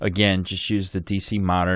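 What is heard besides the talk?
No distinct noise like a dog, phone or traffic.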